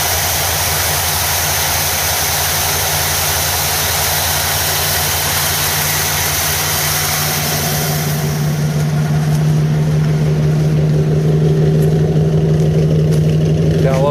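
An old 1979 Chevrolet Caprice Landau coupe with a 305 V8, started cold after two years sitting, idles steadily and loudly up close, a continuous low rumble that firms up slightly toward the end, with no talking.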